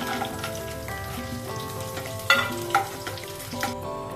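Green chillies, dried red chillies, cashews, chana dal and urad dal frying in oil for upma, a crackling sizzle under rhythmic scraping of a spoon against the pan, close and without talk.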